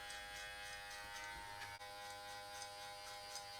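Novah electric hair clippers fitted with a 10mm number 3 guard run close and steady, a continuous faint buzzing hum with no pauses and no talking.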